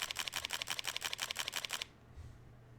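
A Fujifilm X-T4 camera fires a rapid burst of about a dozen crisp, close shutter clicks in steady rhythm, then stops, leaving quiet.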